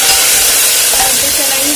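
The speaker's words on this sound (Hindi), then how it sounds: "गैस को हम कम कर देंगे। हम टमाटो डालेंगे" Tomatoes dropping into a hot pan of oil with chilli and ginger for khichdi pulao over lowered gas, giving a loud, steady sizzle and hiss close up.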